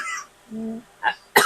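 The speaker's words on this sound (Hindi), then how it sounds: "खांसी आ गई।" A few short, dry coughs and throat-clearing bursts come from a person, close and fairly quiet, separated by brief pauses and a low voiced hum.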